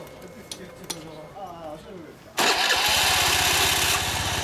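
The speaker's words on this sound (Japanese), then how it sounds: "すみません、エンジン音聞かせてもらえますか。" A Honda Dio110 scooter, a 110cc class-two moped, starts abruptly after background speech, catching with a burst and settling into a loud steady idle right up close.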